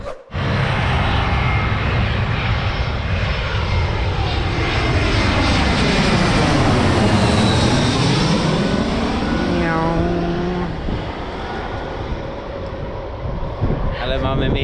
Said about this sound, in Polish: Trochę słychać samoloty, ale jest w porządku.